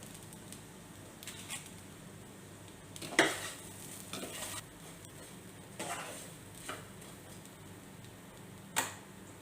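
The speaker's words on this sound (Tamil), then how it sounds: "கடைசியாக நம்ம எடுத்து வச்சுருந்த தேங்காய் தூளை போட்டு ஒரு தடவை கலந்து விட்டுட்டு ஸ்டவ் ஆஃப் பண்ணிடலாம்" Grated coconut being stirred into spicy kara kozhukattai dumplings in a pan, quiet scattered scrapes and spoon clinks over a faint low sizzle, with a sharper knock near the middle and end, no voices.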